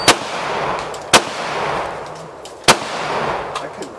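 Gunshots at a night tactical shooting competition: three sharp, loud reports spaced about a second and a half apart, each with a ringing outdoor tail, then a faint distant pop.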